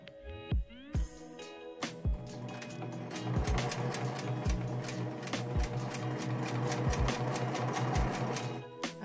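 Sewing machine running steadily as it stitches a delicate fabric throw pillow case, with a continuous close whirring needle rhythm after a few brief starts and stops at the beginning.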